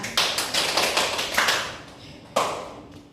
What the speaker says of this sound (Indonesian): Mari kita tepuk tangan ya.